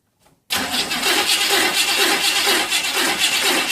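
A Chevy starter motor with a stuck remote solenoid cranks without stopping after a faint click, giving a loud, continuous whirring grind that stays steady and close with no speech.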